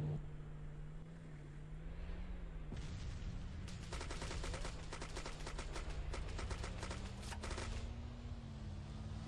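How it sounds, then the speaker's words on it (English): A .50 caliber machine gun fires in a military video game match, a rapid rattling burst of shots over constant loud engine drone and noise. "have a field day here with his 50 caliber machine gun"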